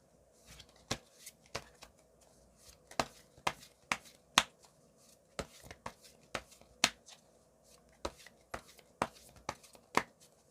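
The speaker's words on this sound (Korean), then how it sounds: "각각의 상황에 대한 추가 카드를 한번 뽑아보도록 할게요" Tarot cards are handled and drawn, making irregular sharp snaps and flicks scattered across the stretch, close up and soft, with faint shuffling in between.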